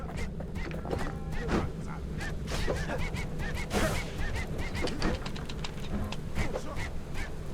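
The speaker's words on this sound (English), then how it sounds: "Those birds are dangerous." Honking birds in the video game Bastion, with repeated short nasal honks and quacks over a busy layer of game effects and music, with irregular clustered calls throughout.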